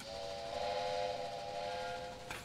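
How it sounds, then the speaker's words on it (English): A steam train whistle in the railway video game Railway Empire blows one sustained, steady multi-tone note, fairly faint under a soft hiss, ending with a brief clunk. "Shall I blow the whistle?"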